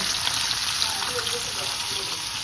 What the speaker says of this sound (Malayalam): നമ്മളൊരു ഫിഷിനെ തവ ഫ്രൈയും ചെയ്യുന്നുണ്ട്